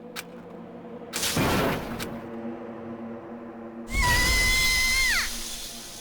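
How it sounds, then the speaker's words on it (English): A character screams in the Danganronpa video game, with a loud burst of noise followed later by a piercing, sustained high cry that wavers and then drops away, with no talk over it. "I think she got that scream just right"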